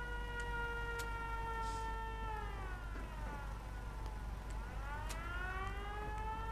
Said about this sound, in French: Elle a activé la sirène